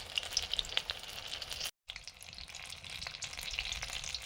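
A vegetable chop drops into hot oil and fries with a continuous crackling sizzle and scattered pops, close and moderately quiet. A brief dropout breaks the sound partway through.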